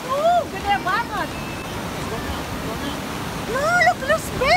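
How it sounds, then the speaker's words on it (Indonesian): Big ocean waves surge and wash at Cave Beach, Catherine Hill Bay, on Lake Macquarie, New South Wales. Rising whistles sound at the start and again near the end. "lihat ombak yang dari sana itu gede banget"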